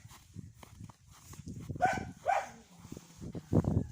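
A dog gives a few short barks at a sparrow at a moderate distance on a snowy day, with birdsong and light outdoor background noise around them.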